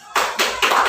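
A classroom breaks into applause for a student who answered: a sudden burst of many hands clapping that swells in waves and keeps going, fairly close and loud, with no talking over it.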